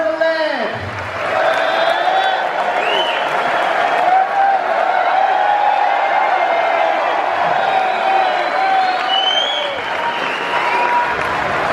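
A theatre crowd at the Hammersmith Apollo keeps up loud, continuous clapping with scattered whoops and cheers as Quadrophenia cast members walk on for a Q&A, with a voice briefly audible over the noise.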